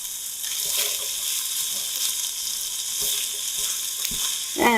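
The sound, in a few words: Spam and onions sizzling in a pot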